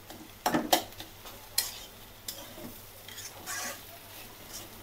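Stem and potato bhaji fries in a pan, with soft sizzling and a few clinks and scrapes of stirring, fairly quiet and close, with no talking.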